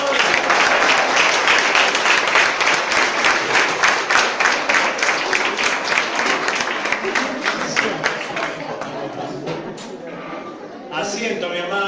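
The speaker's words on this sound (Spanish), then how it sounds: "Ahora le vamos a dar un aplauso al Señor." A congregation at a healing retreat breaks into loud, rhythmic applause that runs strong for several seconds before gradually thinning to scattered claps, with voices mixed in.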